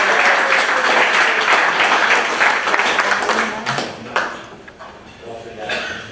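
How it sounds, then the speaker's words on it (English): A meeting crowd gives a round of applause, a dense burst of clapping that is loudest at the start and slowly thins out, with a few voices and scattered sharp knocks mixed in. "let's give a round of applause for Susan Mark Raymond"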